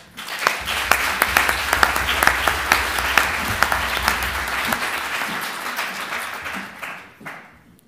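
An audience at a Swiss French-language eloquence competition semi-final applauds to welcome a speaker, many hands clapping in a full, even wave that fades out over the last second.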